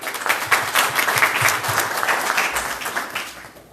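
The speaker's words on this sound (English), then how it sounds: "give yourselves a round of applause" Audience at a merchants' meeting in Hamtramck, Michigan, clapping steadily throughout, a moderately loud room full of applause with no clear talk over it.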